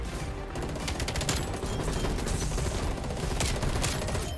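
Rapid gunfire in the video game Call of Duty Cold War comes as dense bursts of automatic shots, loud and continuous, with no speech over it.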